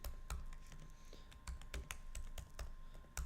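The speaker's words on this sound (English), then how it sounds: "I'm going to basically type in a begin" Typing code on a computer keyboard: quiet, irregular clicks of keys pressed close by, with a faint steady hum underneath and no voice.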